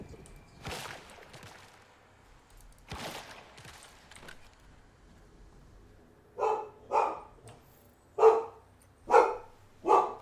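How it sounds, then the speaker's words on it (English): A dog in the Once Human video game barks five times in quick, sharp bursts near the end, after a few softer scattered noises earlier on, with no speech. "What are you barking at?"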